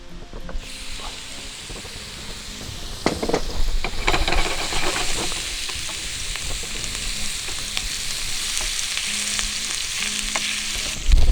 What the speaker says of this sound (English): Now I'll keep the frying pan on fire with oil and fry the prawns while getting the fried onions getting fried to make the masala.